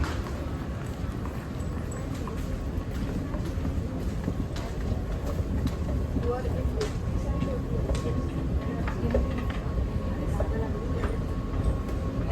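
A steady low rumble of rail travel fills the space, with rattling and clanks over constant wind-like noise, while people talk faintly.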